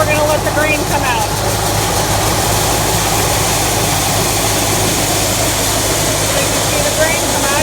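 Grain auger running loudly during a corn harvest, carrying grain from a wagon into a hopper, giving a constant heavy mechanical drone and rattle with a steady engine hum, close and unbroken, while a person talks over it.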